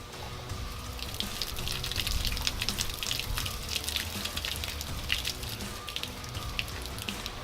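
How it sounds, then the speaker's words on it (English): Water is poured over a car body to rinse off leftover badge adhesive, making a steady, close splashing and trickling patter that runs quietly and continuously with no talk. "Now take the rest of the water, pour it on."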